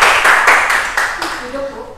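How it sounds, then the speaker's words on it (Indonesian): Students in a classroom clapping their hands together, a short rhythmic round of claps, close and loud, with a voice speaking over the end. "Oke, tepuk tangan kalian semua."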